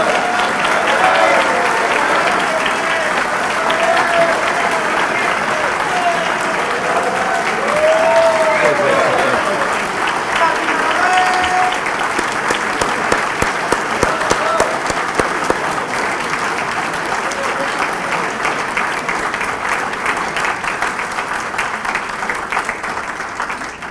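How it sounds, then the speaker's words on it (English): A large audience applauds steadily, hundreds of hands clapping in a dense, sustained roar that thins slightly toward the end, with a few louder individual claps. "It's okay, you can clap."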